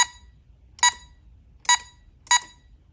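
Game-selection beeps from a speaker on a Ms. Pac-Man and Pong game unit, four short bright electronic tones at roughly even spacing over a quiet background, loud and close.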